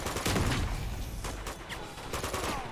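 Shotgun fire and combat in Uncharted 2: Among Thieves, a burst of dense repeated blasts and clattering impacts layered over continuous battle noise, fairly loud with no speech.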